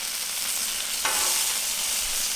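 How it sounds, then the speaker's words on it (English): Bacon fries with a bright, steady sizzle on a Pit Boss flat top griddle outdoors. About a second in, a quick scrape marks the flip, and the hiss swells a little louder afterward. "Let's flip this bacon."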